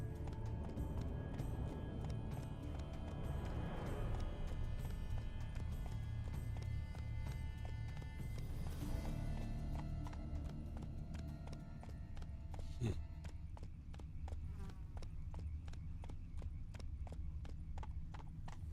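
Hooves clatter in a steady rapid rhythm as spooked horses gallop close by in The Witcher 3: Wild Hunt, with a brief whinny partway through and continuous rumbling underneath.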